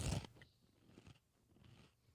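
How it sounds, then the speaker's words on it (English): Close-up crunching of a snack being bitten and chewed: one loud, sharp crunch at the start, then softer, irregular chewing crackles. "And now, listen, I can crunch."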